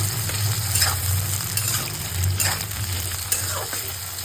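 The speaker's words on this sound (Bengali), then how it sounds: "কাঁচা লঙ্কা, পেঁয়াজ, ক্যাপসিকাম সব একসঙ্গে আমি নিচে দিয়ে দিয়েছি। ভালো করে নাড়িয়ে নেব।" Green chili, onion and capsicum sizzle steadily in a hot pan as a spatula stirs them. The frying hiss is loud and continuous, with periodic scraping strokes, and nobody speaks.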